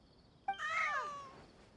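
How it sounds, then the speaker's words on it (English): A single cat in Genshin Impact lets out a close, clear meow that rises and falls and then fades, with no talking. "Look at the cats."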